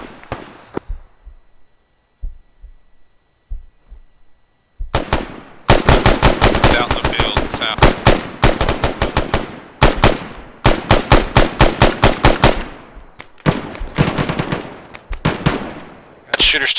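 Gunfire from shooters in the video game Arma 3, with a few scattered isolated shots followed by long loud bursts of rapid automatic fire and short pauses between volleys.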